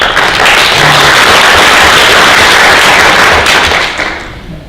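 Loud, dense audience applause at a comedy show, a full roar of clapping sustained for about four seconds before tapering off at the end.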